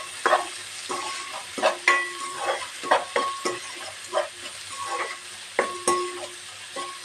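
Onions frying in a pan for a cabbage-carrot mixed vegetable curry, with a steady soft sizzle and repeated sharp scrapes and clinks of a spoon stirring against the pan.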